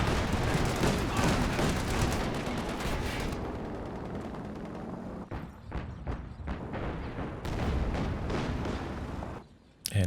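Rocket barrage from a Walking Stuka halftrack launcher in a WWII real-time strategy game, a dense continuous roar of blasts and rumbling impacts that thins out midway into scattered sharp cracks and bursts, then swells again before a brief drop near the end.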